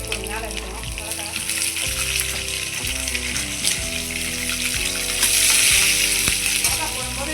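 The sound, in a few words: garlic, ginger and chili frying in a pan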